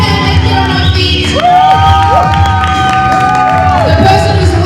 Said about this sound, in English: Give a round of applause! On our feet, actually, if we can, let's get on our feet.